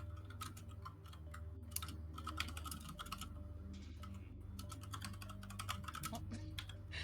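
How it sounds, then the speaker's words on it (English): Rapid clicking keystrokes on a computer keyboard come close and steady, in irregular bursts over a low constant hum, with no voices. "I am going to appropriately type these in chat because she's typing in chat."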